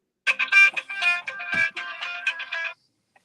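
A telephone rings with a steady run of bright, tonal electronic pulses lasting about two and a half seconds. The ring is fairly loud and sits close by, with no talk over it.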